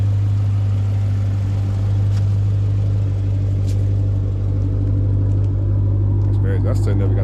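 A Dodge Charger R/T rumbles low and steady during a nighttime city drive, a deep constant engine drone close to the listener while someone talks over it.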